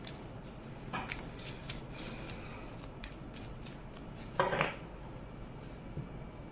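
Tarot cards being shuffled and gathered together, with a short papery riffle near the start and a denser, louder burst of card handling about two thirds of the way through, set against a quiet room.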